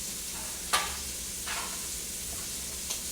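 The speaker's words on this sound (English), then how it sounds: "you can hear it sizzling. It's on a higher heat." Shrimp sizzling in a pan over high heat for tacos, a soft steady frying hiss with a few brief clinks or stirring scrapes, close and fairly quiet, no talk.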